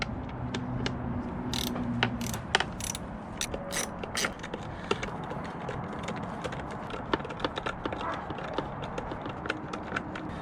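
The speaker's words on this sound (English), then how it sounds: "I want to start to tighten all these little bolts" A ratchet clicks steadily while tightening small bolts on a Yamaha R6 motorcycle, with rapid pawl ticks in short bursts against a dense background rumble.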